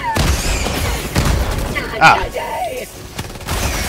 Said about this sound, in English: Got it with the perfect airstrike